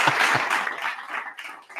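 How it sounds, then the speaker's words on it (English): Short burst of scattered applause and clapping at a football report show, fading unevenly over a couple of seconds with a few louder claps at the start. "Let's give FEMA a round of applause for having a personality"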